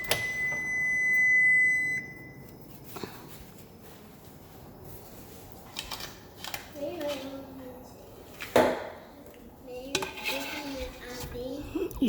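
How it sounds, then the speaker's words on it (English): Proofed homemade croissants go into a preheated oven. An appliance beep sounds first, then metal pans clatter and knock with a door-like thud partway through, while a person talks in between. "I'm going to put it in the oven now."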